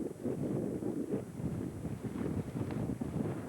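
Steady wind gusting across the microphone, a rough low rushing roar that rises and falls, with no voices.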